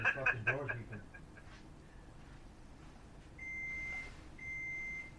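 Two sustained electronic beeps, steady and fairly loud, each lasting about a second, following a brief burst of clattering noise at the start.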